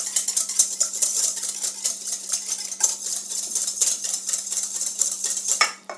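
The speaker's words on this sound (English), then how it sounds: "And I'm going to whisk those together." Egg yolks whisked with vegetable oil and vanilla in a bowl, a fast continuous clatter of whisk wires against the bowl, close and fairly loud, without speech.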